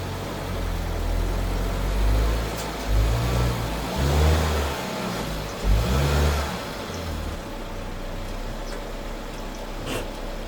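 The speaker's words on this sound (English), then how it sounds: "So I'm letting the Figo idle a bit just for the oil to become nice and hot" A Ford Figo 1.4 engine runs steadily in a workshop, a continuous low mid-pitched drone with a couple of slight swells in level, heard up close with no talking.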